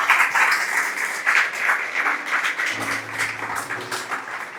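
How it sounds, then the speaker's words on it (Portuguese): Scattered applause from a church congregation, moderately loud and uneven in rhythm, with a faint voice under it partway through. "Você pode aplaudir ao Senhor?"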